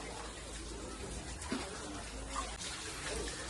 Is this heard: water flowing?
yes